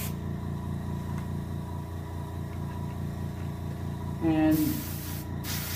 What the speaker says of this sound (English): make sure you get some hairspray coming out.